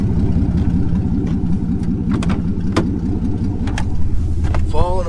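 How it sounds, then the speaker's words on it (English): A farm feed truck's engine runs steadily with a low, continuous rumble close by, with brief clicks and knocks over the drone and a voice speaking near the end. "And here be the mighty feed truck."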